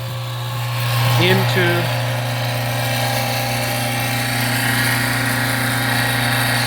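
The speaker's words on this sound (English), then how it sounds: "I'm transferring it with this pump" A pump transferring waste vegetable oil into a tank, heard as a steady close motor hum with a strong low drone throughout, while a voice speaks briefly near the start.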